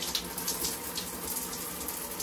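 Hot tap water runs steadily into a lotion bottle's pump to clear product residue, a continuous close splashing hiss at a sink with no pauses.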